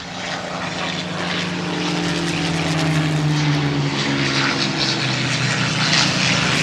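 A Hispano Buchon ME-109 propeller fighter flies a display at the Goodwood Revival, its loud piston engine drone swelling steadily as it passes with a rising, shifting tone.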